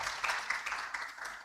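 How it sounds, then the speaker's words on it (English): Audience at a medical conference clapping for the organizing committee: a brief, steady patter of applause from a modest crowd, moderately distant. "I think we can applaud them"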